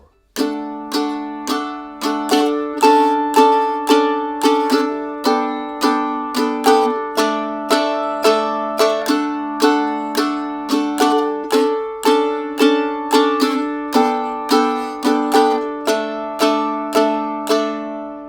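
Strummed mandolin chords ring out in a steady, even rhythm, bright and close, with the chord shifting periodically on an upstroke; no voices.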